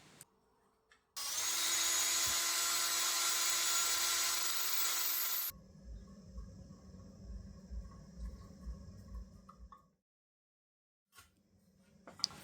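A power drill bores holes in the metal coal bunker of a 5-inch gauge Jack model locomotive, giving one loud steady whine of a few seconds followed by quieter clattering and handling noises.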